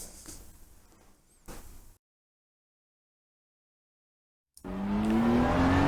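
A racing car in a sim racing game, driven with Fanatec CSL pedals, is heard briefly, then cuts to silence before the engine returns loud and close, its pitch climbing steadily as it accelerates.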